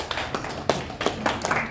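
Scattered hand claps from an audience at an Indian Medical Association Telangana academic conference in Hyderabad, a handful of sharp, uneven claps rather than full sustained applause.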